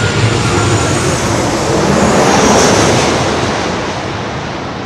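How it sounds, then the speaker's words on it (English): An American Airlines Boeing 737-800 arriving from Indianapolis lands at LAX, a loud, steady broadband jet roar swelling slightly at mid-pass and then easing off, with no talk. "This is American Airlines 1899 coming in from Indianapolis on a 737-800."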